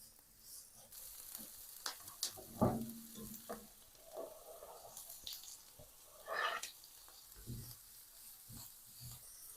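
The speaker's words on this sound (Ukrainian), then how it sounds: "спочатку підсмажую цибульку підсмажую до напівпрозорості" Soft sizzling of onion frying in a pan, with occasional scrapes and stirring clatter, fairly quiet and close, no talking.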